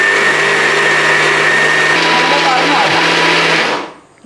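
A mixer grinder coarsely grinds for Kerala neyyappam batter, a loud, close, steady high whine that runs for a few seconds and then cuts off, winding down into near silence.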